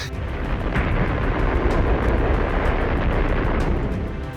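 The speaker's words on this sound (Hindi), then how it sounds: "मॉस्को के समय के हिसाब से सुबह 11:32 पर बम धमाका हुआ।" A deep, sustained roar of a nuclear bomb explosion rumbles continuously, loud and broadband, with no pauses or voices.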